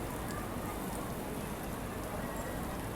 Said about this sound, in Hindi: बारिश देख लीजिए कितने भयंकर है